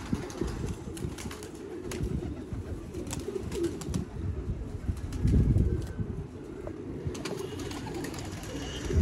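Pigeons kept by a fancier in Haripur, Hazara, cooing in low, throaty murmurs with occasional bursts of wing flapping, close and continuous over a busy loft background.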